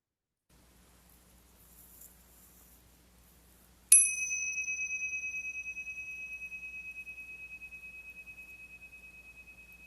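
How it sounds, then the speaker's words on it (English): A meditation bell is struck once in near silence, giving a clear bright ring with a slow, pulsing decay that lingers for several seconds. "allow the sound of the bell to just invite you into a space of rest with yourself"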